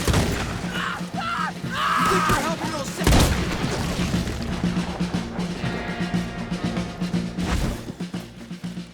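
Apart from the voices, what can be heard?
cannon fire in Red Dead Redemption 2 video game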